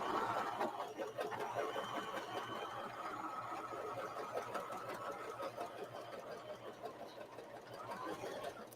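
A sewing machine runs steadily, stitching fabric for a heater bag in a kids' craft class, with a continuous mechanical whir held at an even level for the whole stretch.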